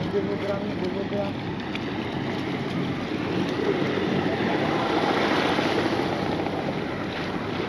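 A boat motor drones steadily at sea off Cox's Bazar on the way to Maheshkhali, wrapped in heavy wind and wave noise with a voice talking faintly beneath it.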